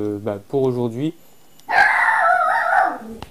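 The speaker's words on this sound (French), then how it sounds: "désolé pour le chien que vous avez entendu." A dog barks and howls in a couple of short voiced bursts, followed by a longer whining cry, with someone speaking French briefly in between.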